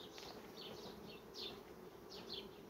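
Bees buzz steadily and close by at a hive, with individual insects droning past in brief swells over a soft hum.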